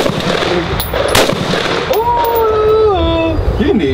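AR-15 rifle gunfire with a green tracer round outdoors: a couple of sharp, loud shots ring out early, followed by echoing rumble and a rising-falling whistle-like tone, with voices chattering nearby.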